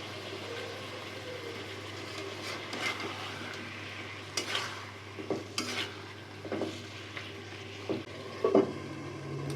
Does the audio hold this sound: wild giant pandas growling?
no